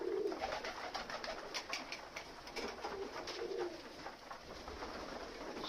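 Pigeons feeding outdoors in winter, with soft repeated cooing calls close by over faint background noise and pecking.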